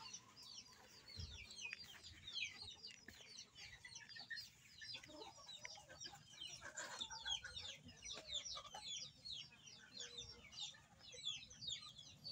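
A flock of silkie chickens clucks busily at feeding time, many overlapping soft clucks and chirps at close to moderate distance, with a faint crow in the mix and no talk.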